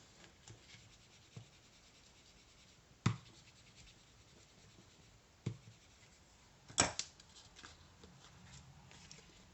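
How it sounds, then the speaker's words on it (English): A bone folder presses and rubs over a paper jotter pad cover, making faint, sparse scratchy strokes with a couple of sharper taps in a quiet room. "Let's get that bone folder on and give that a good press down."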